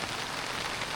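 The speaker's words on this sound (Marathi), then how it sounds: "पाऊस पण जोरात आला आहे" Heavy rain pours down steadily beside a river swollen by high tide, a dense, even hiss of drops close by, continuous and loud, with no voices over it.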